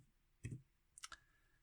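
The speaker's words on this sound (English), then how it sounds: "simply press the backspace button on our keyboard" A backspace key is pressed on a computer keyboard, a few faint close clicks in quick succession, quiet and alone.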